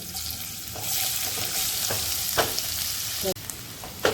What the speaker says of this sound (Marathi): आपला कांद्याला व्यवस्थित परतून घ्यायचं चांगला तांबूस कलर येईपर्यंत परतवून घ्यायचं